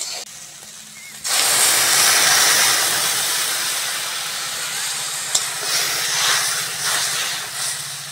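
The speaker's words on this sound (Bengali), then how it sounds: "এইবার আমি জল দিয়ে দেবো।" Water is poured into a pan of fried peas for a pea and chicken masala curry: a quiet moment, then a sudden loud burst of hissing, steamy sizzle that slowly eases but keeps roaring.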